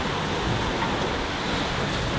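Ocean waves wash against a sailing yacht running downwind, the waves striking from astern, making a steady, full rushing roar with wind noise throughout and no voices.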